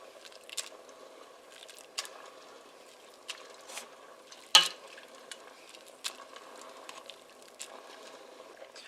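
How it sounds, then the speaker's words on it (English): Hot wild muscadine grapes being mashed with a simple potato masher in a pot, soft wet squishing and scattered faint presses, with one sharp metallic clank partway through. "And then I macerate them with a simple potato masher."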